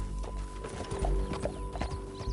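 Hooves clip-clop in a steady trotting rhythm in the video game Red Dead Redemption 2, close and clear, with faint mechanical creaks underneath and no talking.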